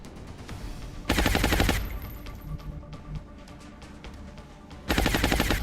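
Two loud bursts of rapid automatic gunfire in XCOM Long War, each under a second long and close, separated by quieter scattered game sounds and clicks.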